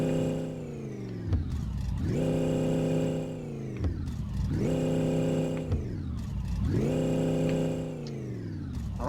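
A car engine in the video game My Garage revs hard through the gears, rising in pitch again and again, with about three full climbs and drops. It is loud and continuous, with no voices.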